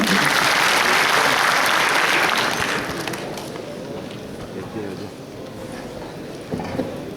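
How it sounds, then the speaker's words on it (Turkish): An audience at a Turkish economic solidarity meeting claps loudly and steadily to welcome guests, the dense applause fading to a lower, scattered patter after about three seconds. "Bir daha alkışlayalım."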